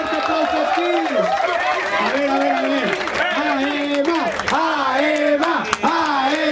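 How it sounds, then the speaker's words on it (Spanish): A crowd at a freestyle rap battle festival cheers and applauds after a quarterfinal result, the noise continuous beneath an announcer shouting over a microphone. "¡Un fuerte aplauso, Skins!"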